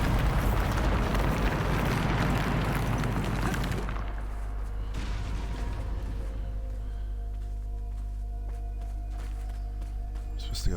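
Bombarda explosion spell from the Hogwarts Legacy video game, a loud rumbling burst that fills the first few seconds and then fades into a quieter game ambience with steady low tones.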